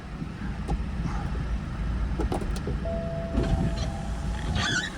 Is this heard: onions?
no